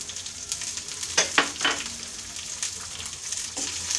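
Chopped onion and green chili with curry leaves sautéing in a pan for a prawn fry, a steady soft sizzle with a few scrapes and stirs, no voices.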